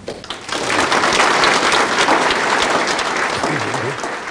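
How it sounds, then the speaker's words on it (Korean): An audience gives a warm, loud round of applause welcoming guest Lee Soon-jae at a ceremony, a thick, sustained burst of clapping that swells quickly and stays strong throughout. "이순재 선장님을 힘찬 박수로 환영해 주시기 바랍니다"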